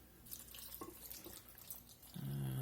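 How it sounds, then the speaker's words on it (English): Water runs from a tap into a container for a smoked pepper hot sauce, a soft splashing trickle that swells into a louder, fuller pour near the end. "I'm going to go ahead and get some water in here."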